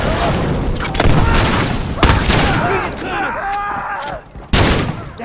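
Sniper and weapon fire ring out in The Last of Us at a water tower, with several loud, close gunshots at irregular intervals and a voice talking between the blasts.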